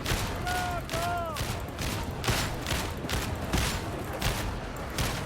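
Warhammer 40,000: Darktide battle noise, with a rapid, steady volley of gunshots pounding into a horde at close range, accompanied by a couple of brief whistling tones early on and sporadic voices in the mix.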